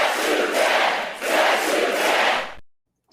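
A large crowd at a political rally cheers and shouts in two swelling bursts, loud and close, then cuts off abruptly into silence.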